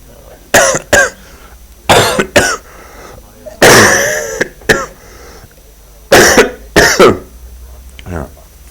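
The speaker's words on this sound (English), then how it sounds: "at least everybody can hear my cough very well now that I have the mic" Several sharp coughs in short bursts, some spaced apart and some in quick pairs, close to the microphone with brief throat-clearing sounds.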